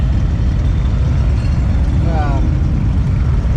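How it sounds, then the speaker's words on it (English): A car engine runs steadily close by among trikes lined up for an event with police escort, a loud continuous low rumble filling the moment with a brief faint whine mixed in. "Chad's car is running real good. Sounds much better than it used to."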